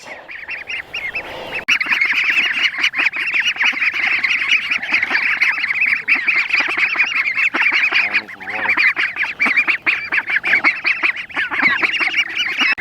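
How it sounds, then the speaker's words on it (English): Ducks and growing ducklings quacking loudly and continuously close by, a dense honking chorus of overlapping calls that persists throughout with brief dips. "These ducklings are growing so fast."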